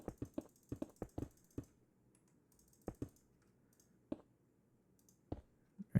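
A computer mouse gives off crisp, sharp clicks in quick bursts with pauses between them. The clicks are close but faint against a quiet room.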